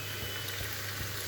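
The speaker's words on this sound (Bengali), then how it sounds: "আমার মাশরুমটা এখন এই পর্যায়ে আছে, প্রায় ভাজা হয়ে গেছে" Mushrooms frying in a pan make a faint, steady, hissing sizzle with a few soft pops, heard alone without talk.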